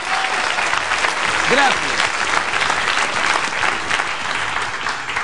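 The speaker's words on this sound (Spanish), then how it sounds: "Un aplauso para la marquesina." Audience at a live stage show clapping loudly and steadily in a dense, sustained burst of applause, with a voice speaking briefly over it.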